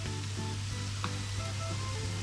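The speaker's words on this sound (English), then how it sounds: "after sauteing ginger garlic paste for around 2 minutes" Ginger garlic paste sautéing in a pan, giving a continuous close hiss of sizzling with a faint crackle and a steady low hum beneath, without pauses.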